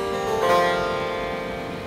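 Six-string sape, a Borneo lute, with all strings tuned and sounding together as one sustained, ringing chord that slowly decays, close and moderately loud with no talking.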